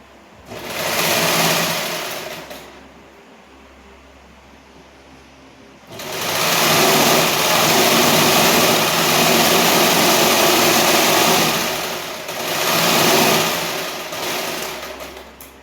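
A sewing machine stitches a lined blouse in bursts of rapid mechanical whirring, several runs separated by pauses, loud and close with no talking.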